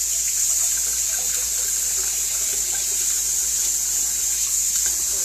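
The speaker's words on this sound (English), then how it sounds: "Let me just rinse it off real quick." Kelp noodles are rinsed under a running kitchen tap, a steady, even hiss of water that flows without a break, close and fairly loud, with no talking.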